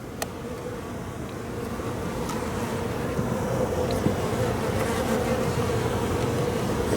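Honeybees in an opened hive during a November inspection of a dead-out colony, a dense continuous buzzing drone held steady and fairly loud throughout, with no voices.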